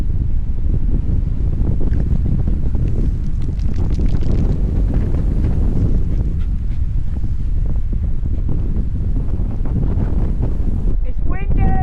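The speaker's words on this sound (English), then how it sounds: "It's very, very windy." Strong wind batters the microphone on a Cornish beach in Bude, a loud continuous roar with rumbling gusts and waves beneath, and a brief whistling near the end.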